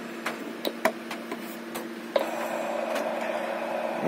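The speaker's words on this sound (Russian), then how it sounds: "Вот его собственные шумы." A STEP 2 transceiver with no antenna connected gives off its own receiver noise: steady low hum and hiss with a few faint clicks early on, then a slightly louder, continuous noise floor that holds to the end.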